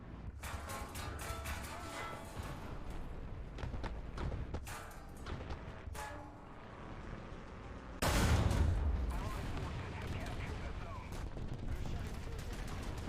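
Video game gunfire aimed at the player: bursts of sharp rapid shots, then a loud heavy blast followed by continuous rumbling combat noise, with a voice talking intermittently over the action.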